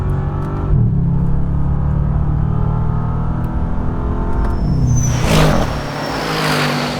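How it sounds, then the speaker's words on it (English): A deep, steady engine rumble from a Bentley Continental GT in sport mode idling and revving, with a low throaty exhaust tone throughout. "there is a sport mode, which makes the exhaust a little bit more"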